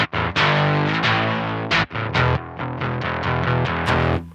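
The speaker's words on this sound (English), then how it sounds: "I'll do some power chords." Electric guitar power chords through a Roger Mayer fuzz pedal, loud and saturated, strummed in a series of sustained and choppy chords with brief gaps, played alone without talk.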